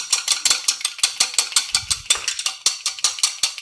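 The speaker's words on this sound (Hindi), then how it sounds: "ये 1 अंडा लिया है, इसको मैं अच्छे तरीके से ब्लेंड कर लूंगी" An egg being whisked in a blender for beef shami kabab coating, a steady run of rapid rhythmic whirring and clattering pulses, loud and close with no voices.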